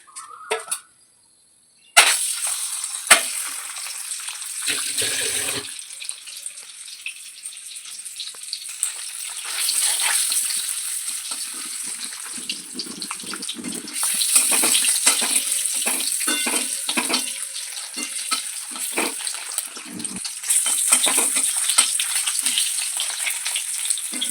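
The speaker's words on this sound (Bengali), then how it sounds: "তো ডিমটা ওই হলুদ লবণ মাখিয়ে রেখেছিলাম এবার তেলের উপরে দেবো" An egg coated in turmeric and salt goes into hot oil, giving a steady sizzling and crackling that swells in waves, with a few sharp pops and utensil clicks early on.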